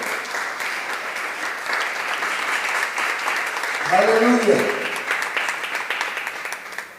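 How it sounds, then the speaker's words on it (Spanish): Church congregation giving loud, sustained applause, steady massed clapping throughout with a voice calling out over it midway. "Denle un aplauso fuerte al Señor."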